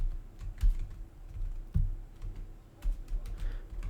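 Computer keyboard typing while writing ES6 JavaScript for React, a steady run of close, soft key clicks with a few heavier strokes, alone without speech.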